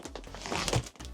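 A plastic bag wrapped around a pen display crinkles and rustles during unboxing, a short close burst of crisp crackling that peaks then briefly drops away.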